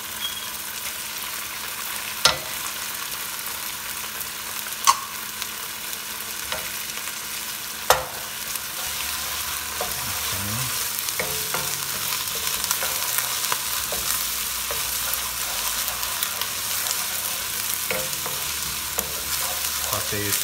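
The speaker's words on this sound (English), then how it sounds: "we're going to get the sweetness of the tomatoes by sauteing it with my ginger" Tomatoes sauté with ginger and garlic in a pan for a Dal Makhani, giving a steady, soft sizzle with a few sharp utensil clinks and scraping stirs near the middle.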